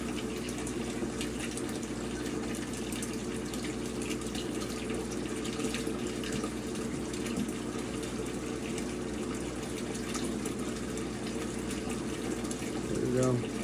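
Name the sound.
water flowing into aquarium system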